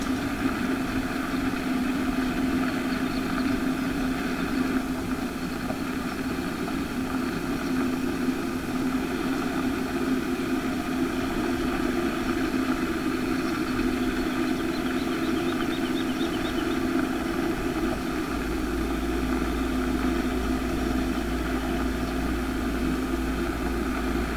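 A 4840 tractor engine drones steadily and loudly for the whole stretch, a constant close-up mechanical hum with no talk over it.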